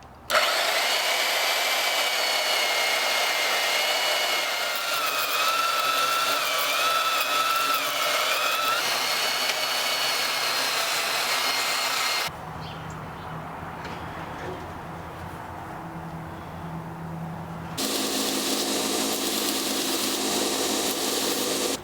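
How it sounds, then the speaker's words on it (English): A power tool cuts a piece off a 2.5 inch mild steel bar destined to be forged into a knife guard: loud continuous grinding, briefly dropping to a quieter hum midway before the full cutting noise returns. "So the first thing I'm going to do is cut off a piece."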